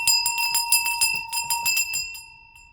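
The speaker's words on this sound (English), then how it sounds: "Let's ring the bell to clear the energy." A bell rung once to clear energy, its bright sustained tones with shimmering overtones ringing out close and clear, striking repeatedly in a quick tinkling series before fading away alone.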